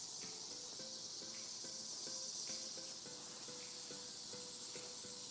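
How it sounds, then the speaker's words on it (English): Steady high-pitched insect buzz of cicadas in a summer tomato garden, a continuous dense drone with faint repeating pulses underneath, moderately distant and without talk. "Yeah, that's all the cicadas."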